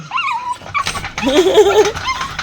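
A puppy whimpering up close: high, wavering whines and short yelps, loud and near, in a brief continuous burst.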